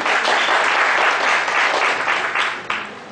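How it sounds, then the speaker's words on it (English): Audience applause at a professional seminar on audit reports as a speaker is welcomed with a floral bouquet: loud, sustained clapping from a seated crowd that fills the room, then thins and drops off near the end. "Big round of applause, ladies and gentlemen."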